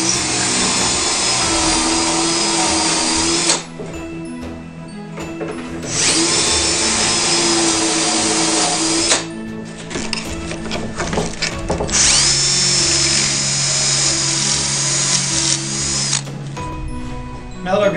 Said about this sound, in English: I'm going to drill those on the bottom side of the boards